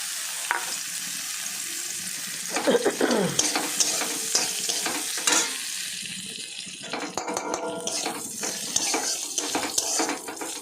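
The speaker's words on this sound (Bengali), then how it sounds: "আলুগুলো ভেজে নেবো একটু লাল লাল করে।" Potatoes frying in a pan in a Bengali kitchen, a continuous sizzle with bursts of stirring and scraping, close and without speech.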